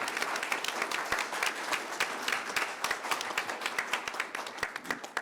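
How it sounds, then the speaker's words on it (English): A city council audience applauds Mr. Nyhoff after his presentation on business and economic development, with dense, steady clapping from many hands lasting throughout, moderately loud and even in rhythm. "let's give Mr. Nyhoff a round of applause"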